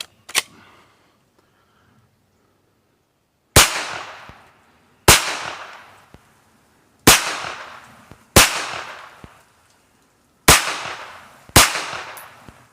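Sharp, loud gunshots from a Hi-Point 9mm carbine at a range, one shot followed after a pause by six more spaced about a second or two apart, each with a short decaying echo.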